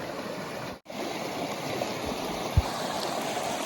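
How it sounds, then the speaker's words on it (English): A creek flowing beside the Pinhoti Trail, a soft, continuous burble of running water heard up close, with a brief dropout and a single knock partway through. "We got another creek. Might have to cross it."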